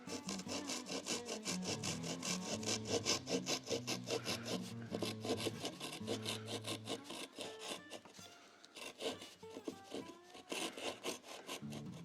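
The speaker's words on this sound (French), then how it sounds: "Mais là, on va pouvoir maintenant la scier proprement." Steady back-and-forth saw strokes cut through the wooden bass bar edges inside a Pink Ivory FE18 instrument build, loud, close and continuous with a rhythmic rasp.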